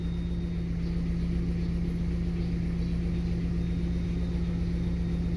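A Ford Lynx car engine idles in a steady, low hum with a constant drone, close and continuous, settling toward normal idle with no talk over it.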